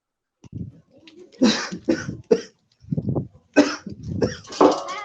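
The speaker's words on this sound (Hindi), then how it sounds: "देखिए अब आपको खांसी लग रही है" A person coughs repeatedly in a series of harsh, close bursts with short pauses between, some throaty and raspy.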